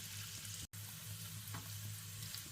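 Garlic and onion sizzle and fry in hot oil for chilli chicken, a steady close crackling sizzle with faint stirring, broken once by a brief cut to silence.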